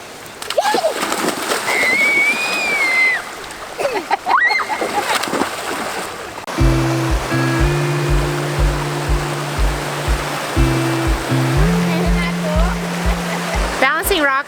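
River water rushes and splashes steadily at close range for the whole stretch, with bird calls over it early on and a droning tonal hum pulsing in through the second half.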